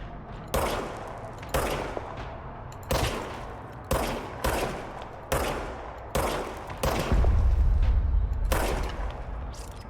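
Gunfire from a pistol in the video game Control, about eight sharp single shots spaced roughly a second apart, loud and close, with a low rumbling boom under the final shots.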